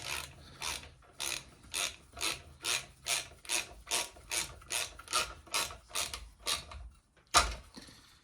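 A 3/8 ratchet tightens bolts while a Briggs and Stratton 12.5hp engine is refitted into a mower, giving about fourteen steady, close rasping clicks in even rhythm, then a pause and one sharp final clack.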